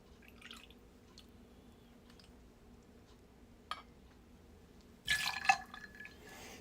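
Half an ounce of Fernet Branca liqueur poured into a cocktail: after a quiet stretch with faint clinks, a short burst of liquid splashing and dripping arrives near the end, close and fairly soft.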